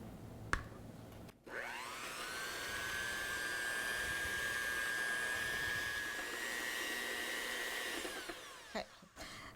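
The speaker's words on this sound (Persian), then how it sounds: "حالا من اینو با میکسر خوب به همش میزنم که" An electric mixer whirs steadily for about seven seconds while beating sugar into a mixture for Iranian saffron ice cream, a close, even motor whine heard alone.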